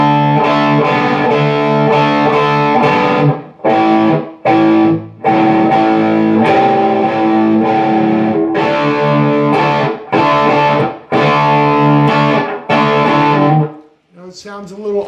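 Distorted electric guitar playing a riff, chunky chords and single notes in a driving rhythm with brief gaps, loud and close, ending with a faint trailing sound.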